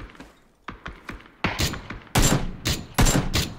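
Gunfire in the battle royale game PUBG: several sharp, loud shots fired in separate bursts over a few seconds, close and strong, with quieter distant pops between them and no talk.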